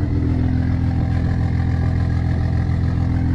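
Straight-piped BMW 235i idling in a steady, low, even drone with no revs, heard up close and alone.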